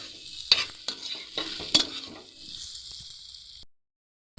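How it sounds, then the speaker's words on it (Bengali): Spices being stirred into potatoes and elephant foot yam in a pan for a rural-style shrimp dhoka, with a scraping stir, a few sharp knocks and a steady sizzle that cuts off abruptly. "আলু আর ওলগুলোর সাথে কিন্তু ভালো করে মশলাটা মিশিয়ে নেব।"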